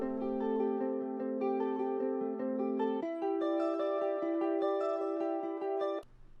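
Clean guitars in an emo rap mix run through a ping-pong triplet stereo delay, a sustained chord pattern with repeating plucked echoes that shifts to a higher voicing halfway, then cuts off abruptly.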